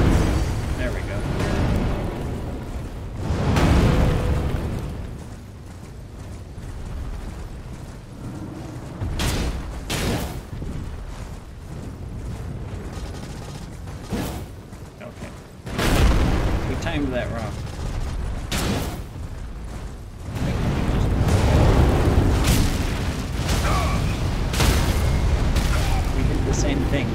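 Booming bursts and roaring gusts in Elden Ring as an enemy breathes fire, several loud blasts and crackling rushes spread across the stretch amid game noise, with no clear talk.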